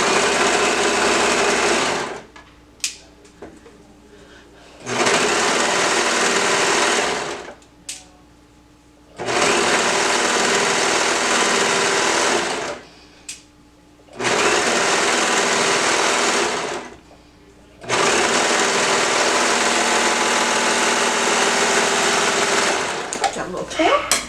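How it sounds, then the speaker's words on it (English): A serger sewing machine stitching a fabric edge, running in loud, close whirring bursts of several seconds each, separated by short pauses with handling noises and a voice talking. "you kind of stretch it out and feed it into the machine so that it looks like it's a straight"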